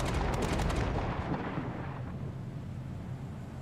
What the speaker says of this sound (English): it's got that high pitched sort of laser sound